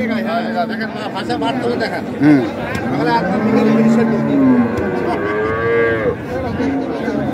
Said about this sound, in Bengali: এই যে এইটাই হচ্ছে বাছুর, শাহিওয়াল, সেই রকম বাছুর। গাভী হচ্ছে এটা।